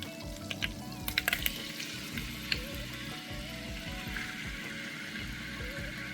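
Steak sizzles and fries steadily in a half stick of melted Kerrygold butter in a pan, a continuous close hiss with a few small pops and crackles.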